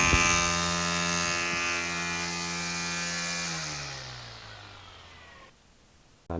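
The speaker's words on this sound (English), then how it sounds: "I know that may have sounded loud, but the head of the trimmer was directly in front of the camera" A Greenworks 60V string trimmer runs at a steady high-pitched whine, loud and close, then spins down and fades over several seconds, ending in near silence before a short noise at the end.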